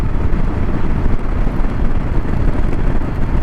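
Steady roar of wind and rain buffeting a motorcycle riding on a road to Dehradun, a dense, constant wash of noise close to the microphone with no pauses.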